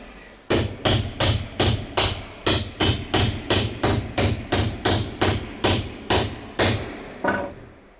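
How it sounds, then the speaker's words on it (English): Steady hammer blows driving a wire staple down while installing a 240-volt Cadet ceiling heater, about fourteen sharp evenly spaced hits, close and loud, with no talking. "Now when you put the staple on, you want to hammer it down."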